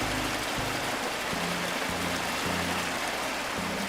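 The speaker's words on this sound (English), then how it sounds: "So it just has running water sound down here" Continuous rushing of running water on a Farming Simulator 22 forestry map, close and fairly loud, an even rain-like hiss over a faint intermittent low drone, with no one speaking.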